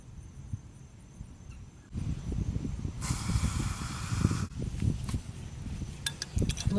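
Lizard Skin undercoating is sprayed onto a 1989 Cherokee, a single sustained, loud hissing burst of about a second and a half, with quieter handling and clattering noise before and after.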